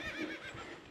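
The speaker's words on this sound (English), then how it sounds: "I think that horse agreed with you. I heard someone whinny in the background." A brief, faint horse whinny, high and wavering, heard from a distance for about a second out on the North York Moors.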